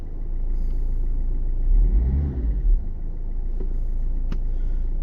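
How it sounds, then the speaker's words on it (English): Citroen C3 engine idling, then briefly revved so the rumble rises and falls back, followed by a couple of small clicks over the steady low idle. "Give it a rev and it goes up and down."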